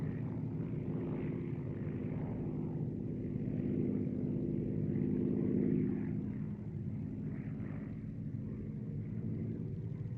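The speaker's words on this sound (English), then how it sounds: "as the Messerschmitt audaciously does a victory roll over the airfield" A Messerschmitt fighter plane performs a victory roll over an airfield, its propeller engine droning as a low, steady rumble that swells toward the middle and then eases back off.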